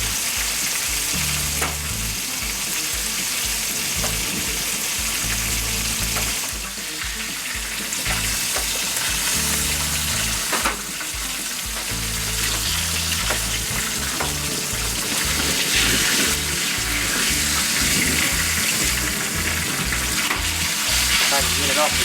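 Bullfrog legs fry in a skillet outdoors by a Florida swamp, making a loud, continuous crackling sizzle that carries on unbroken, with faint rumbles and small bumps in the background.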